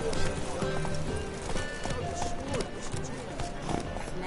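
Horse galloping in The Witcher 3, rapid clip-clop hoofbeats running continuously and close, with a brief whinny and a voice speaking over the hooves.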